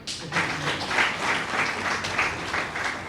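An audience claps steadily at a school results announcement, a dense and continuous patter of applause lasting the whole moment with no voices over it.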